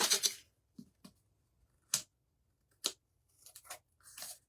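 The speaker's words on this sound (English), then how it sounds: "Let me grab my scissors real quick and we will cut it." Scissors snip around the edge of a handmade bow and lace craft piece in a quiet room: a quick double cut, then several separate crisp snips spaced unevenly, close and clear.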